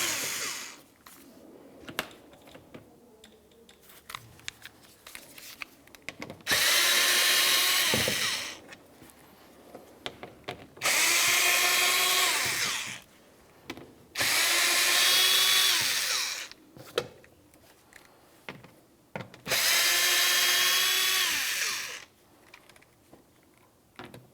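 A power drill backs out 5.5mm screws from the front bumper air deflector of a 2009-2019 Ford Flex, whirring in four loud bursts of a few seconds each, with clicks and handling noise between them.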